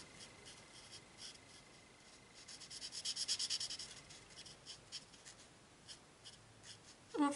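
Pencil or crayon coloring in a drawing, soft scratchy strokes rubbing across paper, quiet and close, with a brief denser burst of scribbling in the middle.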